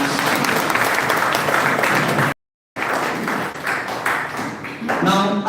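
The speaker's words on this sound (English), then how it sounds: "Could you please give me a big round of applause?" Loud, close applause from a school audience filling the room, a dense roar of many hands that cuts out briefly midway, then resumes and carries on with a few voices mixed in.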